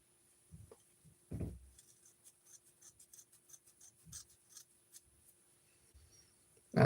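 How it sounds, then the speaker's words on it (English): Large scissors snip through material while zip-tying flashing for fly tying, with a few soft scattered cuts and rubbing sounds, close and fairly quiet, ending in a sharp louder clunk. "I will have to use the bigger scissors for this."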